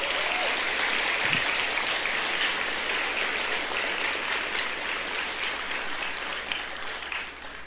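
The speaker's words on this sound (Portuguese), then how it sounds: "Quem crê, aplauda o Senhor Jesus." A church congregation claps for Jesus, a long, even patter of many hands at moderate volume, dense and continuous, fading a little toward the close.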